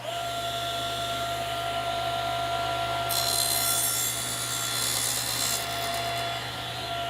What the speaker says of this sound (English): the table saw with the sled, and I'm going to just trim off the end to get it squared up